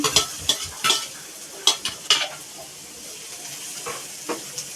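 Onion frying in a pan for prawn masala, a continuous sizzle broken by repeated scraping stirs of a spoon against the pan, close and fairly loud, with no talking.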